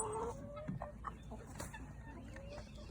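A rooster and hens in a backyard coop cluck and chatter close by, with short repeated calls scattered across a few seconds over a low steady background hum.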